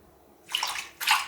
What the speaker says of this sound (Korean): 물 미나리는 거머리가 있을 수 있으니 식초 2스푼 넣고 잘 섞어서 20분은 씻어주면 됩니다